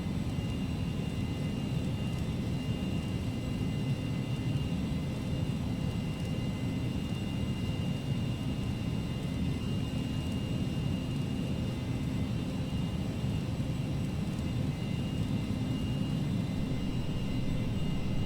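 Cessna Citation CJ2 business jet on its takeoff roll in a flight simulator: a steady, dense roar of jet engine noise with a faint high whine, constant and loud throughout with no talking.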